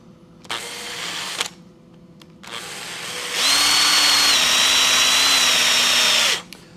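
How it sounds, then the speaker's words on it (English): A power drill bores down into a length of bamboo for a homemade phone speaker, two short bursts followed by a long steady whine of about three seconds, loud and close with no talking. "just carry on and drill down into the bamboo"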